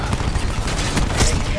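Gunfire in the Call of Duty video game, a short burst of rapid shots cracking close and loud over a busy battle mix, with voices faintly under it.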